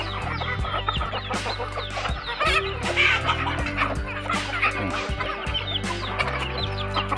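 Several chickens cluck and chatter continuously, close by, with overlapping calls and a busy farmyard background.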